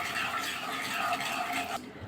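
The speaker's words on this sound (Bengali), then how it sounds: "একটু নাড়াচাড়া করে নেবো।" Food is stirred in a hot karahi with mustard oil, salt and turmeric, giving a steady soft scraping and sizzling hiss that cuts off near the end.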